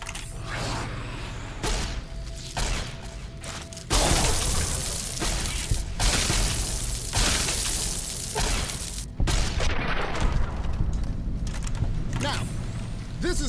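AER14 prototype laser rifle firing in Fallout New Vegas, several sharp zapping blasts at irregular intervals, loud and close amid game ambience, with someone talking over them.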